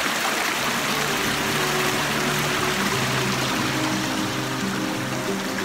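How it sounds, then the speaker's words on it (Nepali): A stream flows beside a peaceful village plot, a loud, steady rush of water. Low tonal hum-like lines run beneath the broadband flow throughout, and no one speaks. "खोला नालाको आवाज एकदमै नेचुरल आवाजहरु मात्रै सुन्न पाइन्छ यहाँ"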